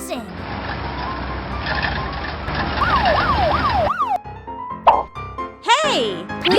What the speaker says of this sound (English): Police car arrives fast, directing traffic and clearing the road.